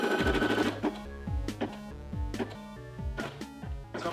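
Brother embroidery machine stitching, a loud, close, rhythmic mechanical chatter of needle strokes with repeating bursts and whirring motor, no talk.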